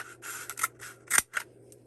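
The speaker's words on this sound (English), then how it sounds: "take our toilet paper roll and pick up our utility scissors and cut lengthwise all the way down" Utility scissors cutting lengthwise through a cardboard toilet paper roll, a close series of short dry snips and scrapes in uneven rhythm, with no voices.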